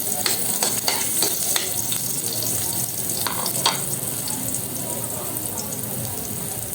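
Garlic sautéing in a pan for a breadfruit dish, a steady loud sizzle and crackle with a few stirring scrapes early on, no talking over it.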